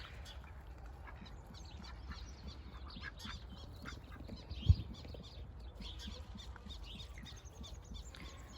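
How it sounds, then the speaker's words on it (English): A mixed flock of ducks and geese, including black Swedish, mallard, Carolina wood and Pekin ducks, quacking and honking faintly and steadily in the distance, with one brief low thump partway through. "2 black Swedish, 3 mallards, and 1 Carolina wood duck, and a Peking."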